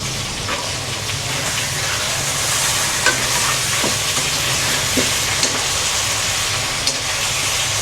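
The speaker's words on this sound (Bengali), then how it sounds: "আর ওদিকে আমাদের চিকেন ভাজা হচ্ছে।" Chicken fries in a pan with a loud, steady, close sizzle that holds throughout, broken by a few small pops and light clinks.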